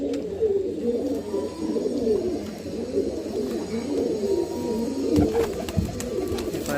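Pigeons in a breeding setup coo steadily, with soft overlapping throaty calls running continuously at close range and a few brief knocks near the end.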